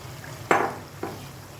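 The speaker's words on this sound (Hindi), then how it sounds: "अब हम इसमें पालक डालेंगे" Fresh spinach dropped into a pot of palak gosht, giving a quick soft thump and rustle followed by a fainter second drop, over a low steady background hum.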